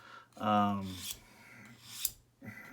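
Knife blade drawn across a Victorinox ceramic dual sharpener, a few separate rasping strokes with short pauses between them, close and fairly loud.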